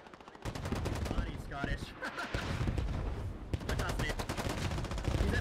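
Dense, rapid gunfire rattles through a military shooter video game, Squad, with overlapping bursts and shots sounding near and far while a commentator talks over the din.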